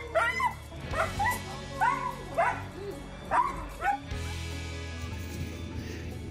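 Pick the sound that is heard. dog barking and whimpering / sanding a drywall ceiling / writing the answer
dog barking and whimpering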